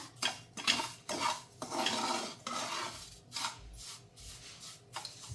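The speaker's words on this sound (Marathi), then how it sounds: "बारीकच गॅसवर मी भासते बघा रवा किती छान फुसफुसला आहे" Semolina roasts over a low flame while a utensil stirs and scrapes it around the pan, making repeated close clinks and scraping strokes with a soft hiss underneath and no voices.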